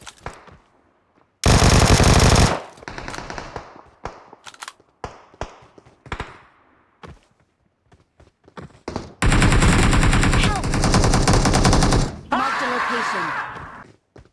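Automatic gunfire in PUBG, with two long loud sustained bursts and scattered single shots and thuds in between, plus a shorter final burst.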